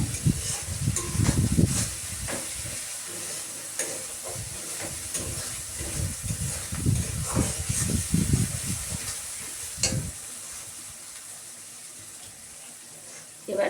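Spice paste (masala) frying and being stirred in a pan, giving a steady, dense sizzling hiss with bursts of stirring scrapes, close and continuous, easing to a softer hiss near the end.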